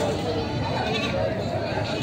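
Goats bleat over the busy chatter of a livestock market in Padre Garcia, Batangas. The bleating is mixed into a dense, continuous wash of crowd noise and nearby talking.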